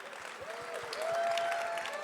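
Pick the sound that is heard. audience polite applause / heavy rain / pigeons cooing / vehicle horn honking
audience polite applause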